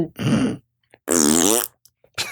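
A comedic fart sound effect plays as three loud, close blasts: a short buzzy one, a longer wavering tonal one, then a brief final burst.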